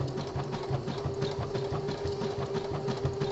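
A home sewing machine stitches a boxer brief body panel in stretch fabric, a steady close rhythmic motor hum with rapid needle clatter running evenly throughout.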